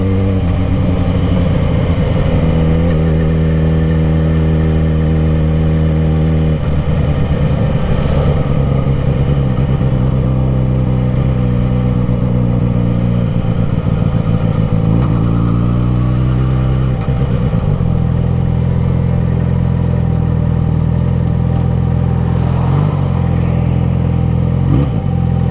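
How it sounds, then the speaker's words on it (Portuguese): A Ford car engine hums and revs up, the pitch rising through gears with rattling clatter, loud and close throughout the long stretch, no speech. "E bora, estamos acelerando,"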